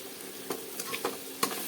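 Masala bhindi with salt sizzles gently in a pan while a spoon stirs it, with soft scraping strokes and a few sharp taps against the pan over a low, steady frying hiss.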